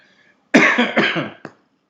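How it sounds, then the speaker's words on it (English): A single person coughs in a short burst of several rough hacks, close and loud, ending with one final sharp cough in a quiet room. "I still have a cough from following buses"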